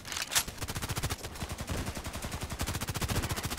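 An SVU-AS automatic sniper rifle fires in the shooter game Contract Wars: a rapid, evenly spaced stream of sharp shots, close and continuous, with no voices.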